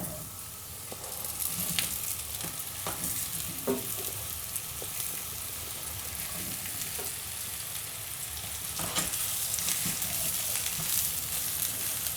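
Mushrooms and vegetables sizzle and fry in oil in a pan, a steady, dense crackle with scattered pops from stirring, heard close and continuous.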